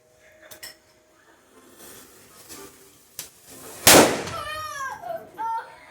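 Firecracker set off during a São João bonfire celebration, a single sharp loud bang close by after some faint clinks and taps, followed by people's voices and whistling cries.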